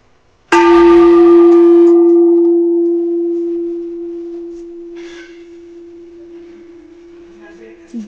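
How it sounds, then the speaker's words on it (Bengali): A temple bell at Chandragiri hill in Kathmandu is struck once, ringing out loud and close before its pure tone slowly fades through a long, steady decay. "এখানে আমি ঘন্টাটা বাজাতে চাই।"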